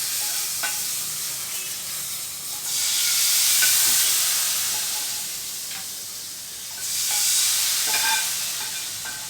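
Rasam mixed with squeezed green chillies hits a hot tempering, producing a steady loud sizzle and hiss that swells in two strong bursts as more liquid is poured and stirred.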